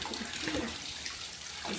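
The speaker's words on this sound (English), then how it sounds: "Time to turn the water off." Tap water running steadily into a baby's bathtub, a close, continuous splashing rush with no talking.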